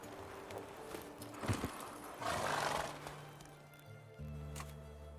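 Roach, the horse in The Witcher 3, whinnies and snorts amid clip-clopping hooves and game ambience, with a low rumbling hum rising near the end.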